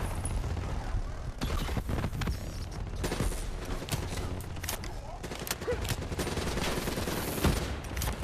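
Dense, continuous gunfire from a Call of Duty: Black Ops 3 match, with rapid automatic bursts and sharp shots overlapping into a loud, busy battle din that runs throughout.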